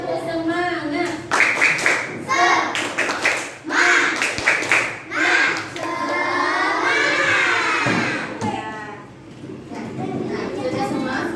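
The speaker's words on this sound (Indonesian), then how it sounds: "Tepuk semangat." A school class performs a spirit clap together, sharp rhythmic bursts of many hands clapping in patterned groups, mixed with children's voices chanting along in unison.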